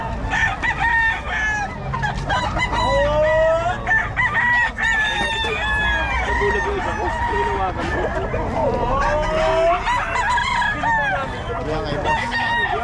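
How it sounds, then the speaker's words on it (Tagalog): Roosters and chickens at a fowl gathering crow loudly and repeatedly over constant clucking, close and dense, while people talk in the background. "Manok siguro."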